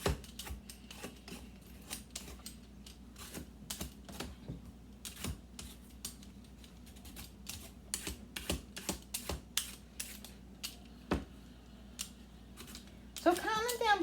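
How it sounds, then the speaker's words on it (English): Yams being peeled with a vegetable peeler in a home kitchen, heard as a run of short, dry scraping strokes in an irregular rhythm, close and moderately quiet, with a brief voice at the very end. "yams are a little bit more rougher to peel, so I use the peeler."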